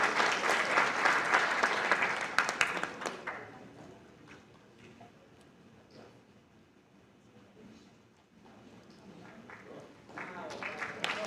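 Audience applause at a diploma ceremony during a law conference, a loud burst of clapping for about three seconds that thins out into quieter room sound and scattered claps, with a brief swell again at the end.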